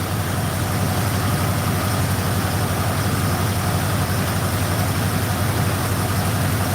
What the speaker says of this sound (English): It's a Ford FE engine.